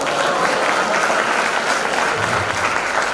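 Loud, dense audience applause at a live stand-up comedy show in an institute, a sustained clapping roar from a large crowd without any talk over it.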